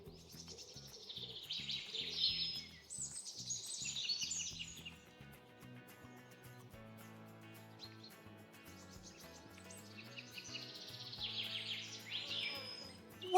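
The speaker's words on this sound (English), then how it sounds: "A bird makes a fun pet." A pet bird sings in bright bursts of high chirping and trilling, near and fairly clear, over a soft melodic music bed that runs throughout.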